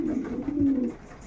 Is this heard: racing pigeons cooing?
yes